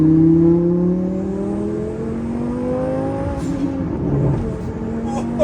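A Range Rover engine revving up through rising tones, loud and close, dipping briefly as it shifts before climbing again.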